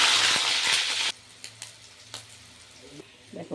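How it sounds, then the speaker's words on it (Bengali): Bitter gourd (uchhe) pieces fry in a pan until reddish, a loud, close sizzle filling the first second, then dropping to a faint crackle with a few soft pops. "এবার উচ্ছেগুলো লাল করে ভেজে নেব।"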